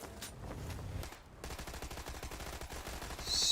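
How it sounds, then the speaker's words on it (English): Gunshots in a battle royale match sound as a steady run of rapid automatic fire, fairly faint and continuous, after a brief gap at the start. "the first bullets being shot of day number 2"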